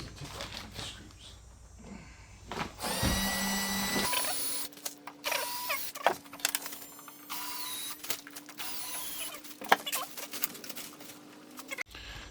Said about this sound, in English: So let's take off the screws.